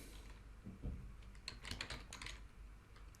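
Quick clattering keystrokes on a computer keyboard while a web address is typed into Adobe Photoshop, a short burst of light clicks heard close and alone.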